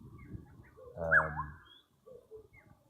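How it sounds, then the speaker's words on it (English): A single unidentified bird calls once in an off-grid garden, a clear rising whistle-like note near the middle, moderately close, with a few faint quieter chirps around it. "that bird that we just heard now, I still need to identify."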